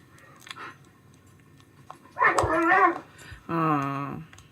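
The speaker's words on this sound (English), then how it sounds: "That was Prince correcting him" One dog corrects another with two rough, loud vocal bursts, a snarling growl followed by a harsher, more tonal growl, after some faint shuffling and a small yip in a home kitchen.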